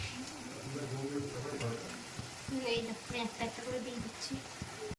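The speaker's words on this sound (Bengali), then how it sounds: "এবার ঝোলটা ফুটে গেছে এবার এক করে মাছ দিয়ে দেওয়া হচ্ছে" Katla fish pieces dropped one by one into a boiling curry broth, giving a steady close sizzle and bubbling with soft stirring knocks, while a voice talks over it.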